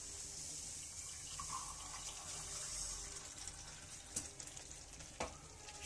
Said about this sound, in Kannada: ಶಾವ್ಗೆ ಹಾಕೊಂಡು ಈ ಥರ ಒಂದು ಸ್ವಲ್ಪ ನೀಟಾಗಿ ಮಿಕ್ಸ್ ಮಾಡ್ಕೋಬೇಕು